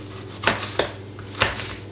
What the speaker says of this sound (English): 1 big fat red chili. Just going to just chop it quickly